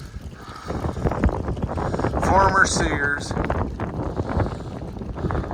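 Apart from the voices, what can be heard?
wind during a dust storm in Idaho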